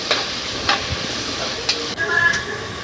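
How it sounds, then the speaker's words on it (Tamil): Four tomatoes stirred and sautéed in a pressure cooker for vegetable biryani: a steady close sizzle with a few scraping stirs and clinks of a spoon against the pot. "4 தக்காளி போட்டுடலாம். நல்லா வணக்கி விடுங்க."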